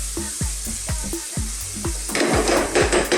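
Beef and pumpkin stew ingredients for Ethiopian alicha sega be duba fry in a pot on fairly high heat, with a steady close sizzle and repeated scraping stirs, the frying swelling louder toward the end.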